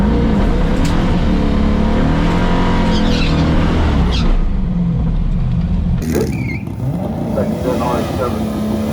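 A turbocharged, LS-swapped RX7 makes a full-throttle pass down a drag strip, its engine roaring loud and steady as it pulls hard, then dropping off sharply partway through, with outdoor track ambience behind.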